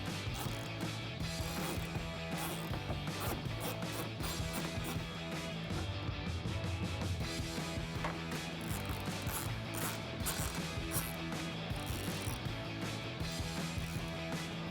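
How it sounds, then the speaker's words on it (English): A 10mm socket ratchet turns the bolts that hold the fender and bumper of a Toyota Tacoma: a fast, steady run of close metallic clicks that continues without a break, with no talking. "I'm gonna be using a 10mm socket."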